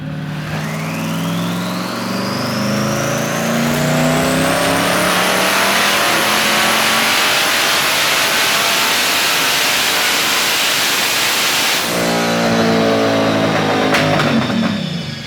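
A rear-wheel-drive Honda Civic with a twin-turbo V8 screams at full throttle on a dyno, pitch climbing steadily for about twelve seconds, loud and close, then the revs drop away into a rough, burbling idle.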